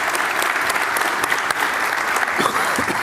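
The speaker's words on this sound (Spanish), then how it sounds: "el aplauso de la concurrencia para su participación" Steady applause from a conference audience for an economy and finance minister at a northern Argentine regional congress, dense and continuous throughout, with a few faint voices underneath.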